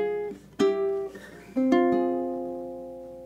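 A ukulele plays the closing bars of a spooky melody, slowing down as the phrase ends: a few plucked notes and strummed chords ring out clearly and close, the last chord sustaining and fading, with no voice.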